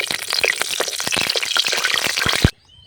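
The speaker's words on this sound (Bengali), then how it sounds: "তেজপাতাটা একটু নাড়িয়ে নিচ্ছি" A bay leaf is stirred in hot oil mixed with a little ghee, making crackling, popping sizzles with scattered sharp spatters and spoon scrapes that stop abruptly near the end.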